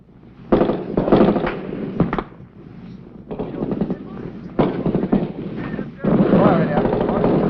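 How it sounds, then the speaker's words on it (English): Gunfire in 1966 Vietnam War combat, with US Marines fighting the Vietcong in an ambush: rough bursts of rapid shots come in several loud clusters separated by brief gaps, harsh and crackling, with a narrator's voice likely mixed in. "Bullets ripped through the leaves, and a Marine is hit."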